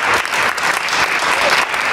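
Loud, dense applause from an audience at a White Day hospital concert for patients, continuous clapping close up for the whole stretch.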